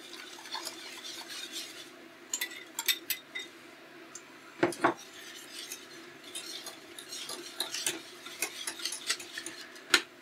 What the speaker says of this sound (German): jetzt den Grieß in die kochende Milch geben.